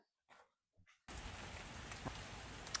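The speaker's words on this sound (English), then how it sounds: "it's raining again" Steady rain falls outdoors over a garden being planted with perennial borders, a constant hiss of drops that starts abruptly after a few brief faint sounds and continues evenly.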